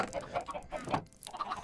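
Chickens in a Minecraft contraption cluck in short, close bursts, several quick clucks overlapping in a busy run with no talking.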